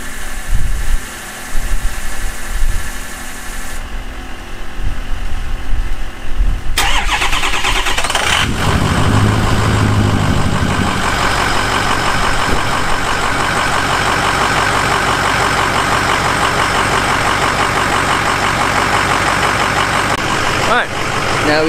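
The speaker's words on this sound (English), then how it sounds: "let's go get a cold start for the boys" A large diesel truck engine cold starts, cranking and firing up, then settles into a loud, steady rumbling idle that continues to the end; talking before the start.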